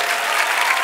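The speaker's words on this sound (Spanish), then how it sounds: "recibir el caluroso aplauso del público" Warm applause from the audience at a children's televised singing audition, a dense, steady wash of many hands clapping close and loud, continuous throughout with no voices standing out.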